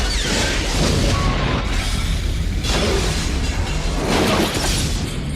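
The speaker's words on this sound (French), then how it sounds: "si les explosions ont de la gueule, c'est normal" Film explosions from the 1995 pirate movie L'Île aux pirates rumble as a continuous loud roar with blasts and crashing debris swelling through it, with no talk.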